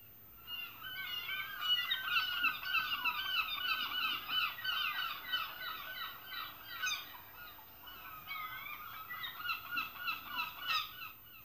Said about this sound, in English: The seagulls, if you went for a day trip to the seaside during the summer, you would have heard the seagulls.